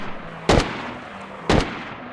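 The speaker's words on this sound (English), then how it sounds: "here are the 3 sounds of an M4 shot." Two sharp M4 rifle gunshots from the video game DayZ ring out about a second apart, each a loud, bright crack with a short tail, standing alone over a faint background hiss.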